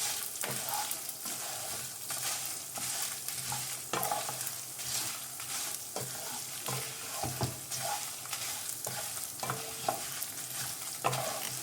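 Coriander seeds and dried red chilies frying in a pan for an Andhra-style curry leaf pickle, a steady, close crackling sizzle with frequent stirring scrapes and no talking.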